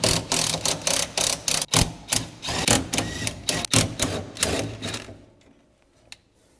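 A ratchet wrench working loose the pedal assembly bolts on a Ford F100, giving quick repeated clicking strokes up close and loud for several seconds before tapering off into near silence with a last faint click.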